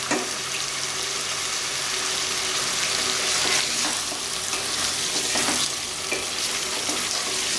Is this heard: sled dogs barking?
no